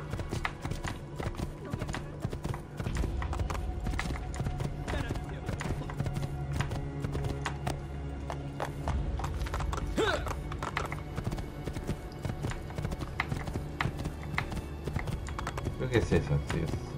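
Rhythmic hoofbeats clip-clop steadily throughout as a horse gallops in Assassin's Creed II, with the game soundtrack and a voice talking underneath.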